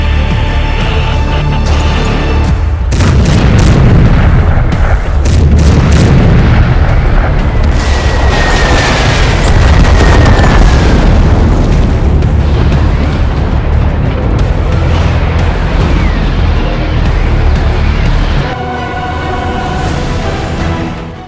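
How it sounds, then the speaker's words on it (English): Artillery barrages and explosions in a tank cartoon: continuous heavy booms and rumbling blasts fill the whole stretch, loud and dense, with a whistling shell streak midway and a brief lull near the end. "Artillery, fire on those coordinates!"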